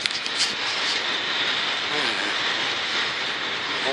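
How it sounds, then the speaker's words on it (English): A German train passes very close by, a loud, continuous rushing roar with rumbling wheels and some metallic squeal sustained throughout. "There's a train next to me."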